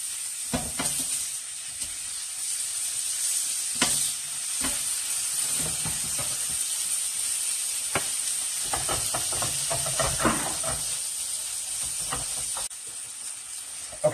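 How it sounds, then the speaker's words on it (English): Ground beef frying in a pan, a steady close sizzle and hiss with scattered crackles and the scrape of stirring throughout, no talk. "Okay, so our ground beef is almost done cooking."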